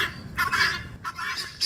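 Guinea fowl call in loud, raspy turkey-like bursts, three quick grating outbursts close by, with no voices.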